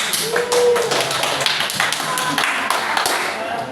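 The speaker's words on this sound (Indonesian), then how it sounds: "Tepuk tangan dong." A group claps hands together at a church youth session, quick close taps blending into a busy, fairly loud patter that carries on without pause.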